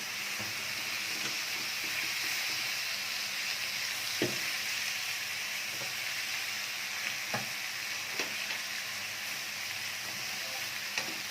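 Meat sizzling in a hot pan for a beef and onion tray bake, a steady close frying hiss broken by a few sharp pops and clicks, with no talking.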